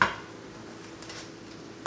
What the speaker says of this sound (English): Pop the lid on here.